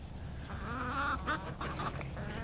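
White Leghorn chickens cluck and murmur in a farmyard, a cluster of short, close, moderately loud fowl calls over steady background noise.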